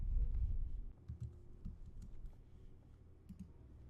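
Keys tapped on a computer keyboard while composing a Twitter direct message: soft, scattered clicks at an uneven pace, close and fairly quiet over a low background hum.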